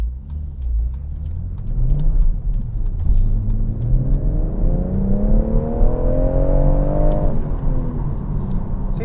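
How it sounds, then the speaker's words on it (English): A BMW M140i pulls hard at full throttle in second gear, its engine note rising steadily in pitch from a deep rumble to a loud, strained howl, then easing off near the end, with no talk over it. "that was full bore in second gear then, and it didn't break traction once"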